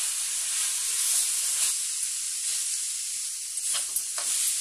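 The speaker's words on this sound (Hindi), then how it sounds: "अब इसमें हम डालेंगे ग्रेट की हुई ये कैरोट, गाजर डाल देते हैं" Freshly grated carrot hits a hot pan for a sweet carrot laddu, producing a bright steamy sizzle and hiss with a few soft scraping stirs near the end.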